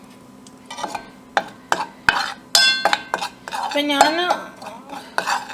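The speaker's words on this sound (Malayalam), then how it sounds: "കുറച്ച് ഓയിൽ ഒഴിച്ചു കൊടുത്തിട്ട് ഇത് നന്നായി ഒന്ന് മിക്സ് ചെയ്തെടുക്കുക." Dates pickle is mixed with oil in a bowl, the spoon clinking and scraping sharply in a quick, uneven rhythm up close, with a brief spoken remark partway through.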